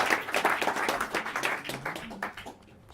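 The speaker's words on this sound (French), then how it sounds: "Et je vous demande de les applaudir une nouvelle fois." Theatre audience applauding four performers during a season-opening evening at the Lucernaire theatre, a dense patter of clapping that thins and fades toward the end.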